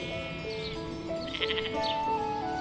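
Sheep bleating in a pastoral setting, several drawn-out, wavering calls overlapping one another, fairly loud and close, with no talking over them.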